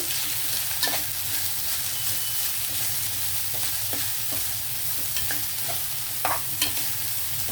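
Bitter gourd pieces with a little ginger garlic paste sizzle steadily in a pan, a constant close frying hiss with occasional soft stirring clicks, no voices.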